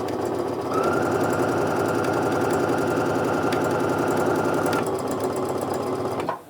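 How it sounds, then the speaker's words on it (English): Close, loud sewing machine stitching quilt block pieces in one continuous run, a steady rapid mechanical chatter that slows and stops at the very end. "Your sewing machine is going to sew a couple of stitches over nothing, and that's fine."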